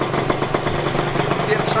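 A tuned Italjet Dragster 180 scooter engine runs steadily, a continuous buzzing drone with rhythmic pulsing, loud and close throughout without pause.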